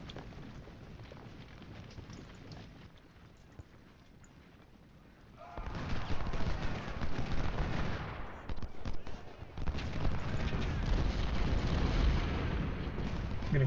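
Artillery and gunfire in the Ultimate General Civil War strategy game, a quiet stretch giving way to a dense, rumbling barrage of cannon and musket fire that continues loudly to the end.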